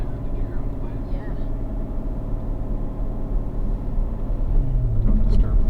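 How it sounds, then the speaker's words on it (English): A 2015 Corvette engine idles and rolls along with its mufflers quieted in terrain mode, a low steady rumble close by, with people talking over it. "we'll put it in terrain mode, quiet the mufflers down"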